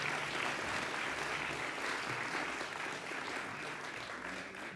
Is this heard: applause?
yes